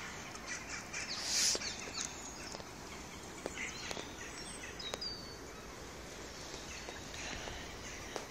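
Scattered waterfowl and woodland birds call faintly from a distance across a quiet park in March, with sparse chirps and calls over low outdoor ambience.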